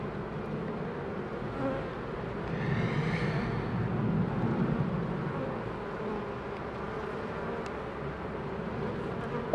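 Honey bees at an open hive during a spring inspection make a continuous, dense buzzing hum, close and moderately loud, swelling slightly in the middle with no voices.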